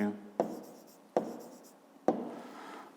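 A pen writes on paper during a fifth-grade maths lesson, three distinct sharp strokes each trailing off into a soft scratch, close and quiet, with no talk.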